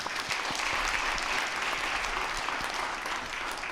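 A church congregation applauds its deacons' board officers, a steady, dense clapping from a full room that holds even and fairly loud throughout without any speech.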